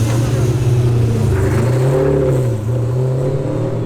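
A race car engine in the paddock at Val de Vienne runs and revs, its tone rising and falling steadily at close range, with voices in the background.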